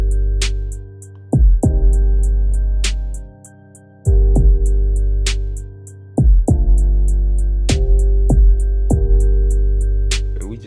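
A smooth hip-hop beat made in FL Studio, with deep booming bass hits and kick drums under steady ticking hi-hats and sustained mellow keys, rolling in a relaxed loop at even loudness.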